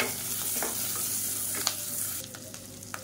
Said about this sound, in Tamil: இப்போ எல்லாமே லேசாக வதங்கிடுச்சு